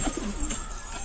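Soft pigeon cooing, a low throaty burble close by over faint background hiss.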